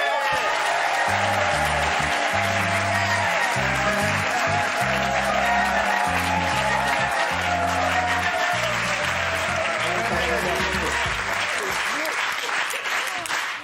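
Studio audience applauding a guest's arrival on a French TV talk show, dense sustained clapping throughout, loud and continuous with a music sting underneath.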